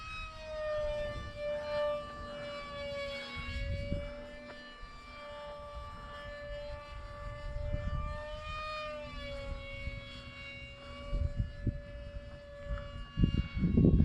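A HobbyZone AeroScout RC plane taxis along the ground, its electric motor giving a steady, wavering whine that rises and falls slightly, with wind and handling noise underneath.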